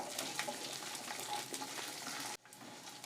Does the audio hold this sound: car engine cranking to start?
no